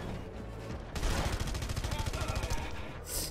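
Rapid bursts of automatic gunfire in the video game Red Faction Guerrilla Re-Mars-tered rattle continuously for a few seconds after a brief lull, loud and dense, with a faint voice at the start.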